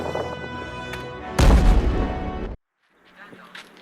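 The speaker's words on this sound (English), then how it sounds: "That, my dear Hobbit, was an explosion." A film-scene explosion hits as a sudden loud boom that rumbles heavily for about a second over a swelling orchestral score, then cuts to near silence before faint music returns.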